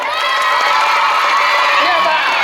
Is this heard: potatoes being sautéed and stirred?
no